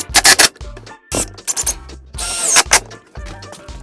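A driver sets 3-inch T15 screws into wooden end pieces in several bursts, each a grinding whir with ratcheting clicks and short pauses between, no voices.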